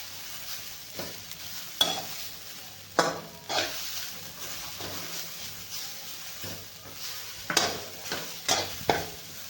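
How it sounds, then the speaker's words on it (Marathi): Grated coconut roasting in ghee in a pan for steamed semolina modak, a soft continuous sizzle broken by repeated spatula stirs and scrapes, with no talking. "खीस थोडासा भाजून घ्यायचा जास्त लाल करायचा नाही"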